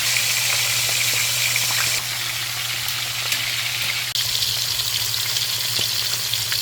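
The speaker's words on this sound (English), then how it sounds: "I'm gonna leave them there for a little bit longer to fry on the other side" Fish frying in oil in a pan for Jamaican brown stew fish, a steady loud sizzle throughout with small pops and crackles, no voices.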